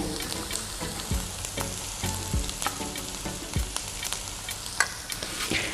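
Garlic-ginger paste frying in a pan with light-browned onions for a beef kofta curry, a steady close sizzle broken by repeated scraping stirs, with no talking.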